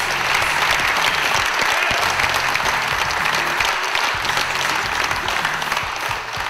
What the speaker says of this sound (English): That's an applause. Let's do it.